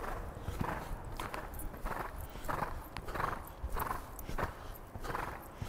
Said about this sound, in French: Allez, on continue le galop.